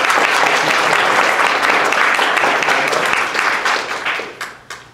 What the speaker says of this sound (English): Let's give them a round of applause again.